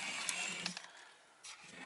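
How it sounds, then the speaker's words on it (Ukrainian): Motor of a Revoe electric scooter whirring under a little throttle, a steady close electric hum with slight surges and a brief dip before rising again, no talking. "Навіть якщо дати газу трішки"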